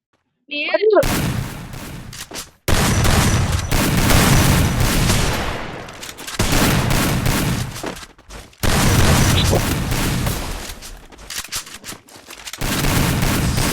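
A shooting video game rattles with dense bursts of automatic gunfire and booms in long loud stretches separated by short gaps, while players shout and talk over the action.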